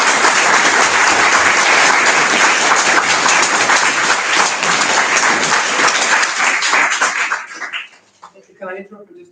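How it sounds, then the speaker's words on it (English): Loud, sustained applause from a support-group meeting audience, many hands clapping together for about seven seconds before dying away abruptly, followed by brief quieter sounds. "can we have one quick round of applause for everyone?"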